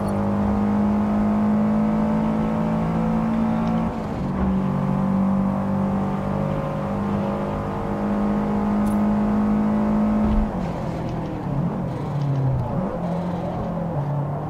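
A Subaru's engine in the Forza Motorsport racing game drones steadily at high revs, with brief pitch dips around gear changes or lifts, continuous and close throughout.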